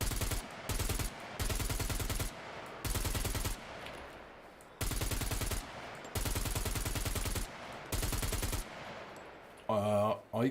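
RPK machine gun fired in a zombie video game, several loud sustained automatic bursts of rapid shots separated by short pauses, with a brief voice near the end.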